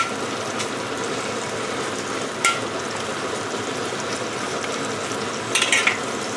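Char kway teow with lapchong and prawns sizzles steadily in a hot wok as it is stir fried, a constant frying hiss broken by a few sharp metallic scrapes of the utensil, close and alone.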